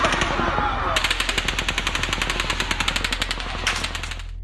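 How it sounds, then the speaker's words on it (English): Bursts of rapid automatic gunfire fired into a concert crowd, a long run of sharp evenly spaced shots with a brief pause partway through, captured from a distance amid echo and a constant low hum. "There's a pause, then more gunfire."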